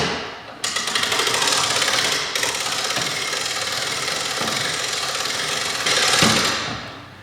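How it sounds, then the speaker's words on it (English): Hand crank raising the roof of a Palomino tent trailer, giving a continuous loud mechanical ratcheting grind close by. A brief pause interrupts it, and there is no talk. "it's time to put the crank into the front of the trailer here and raise the roof up"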